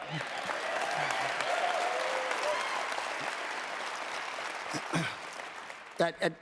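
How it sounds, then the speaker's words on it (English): Applause from a live event audience at a Lombardi Honors ceremony, moderately distant and steady for several seconds before fading, followed by a few louder bursts and a voice starting to speak near the end. "I usually clap for that"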